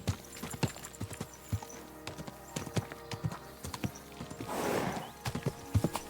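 Horse hooves clip-clop in a steady, fairly faint rhythm in Kingdom Come Deliverance 2, set in medieval Bohemia, with a short burst of rustling partway through.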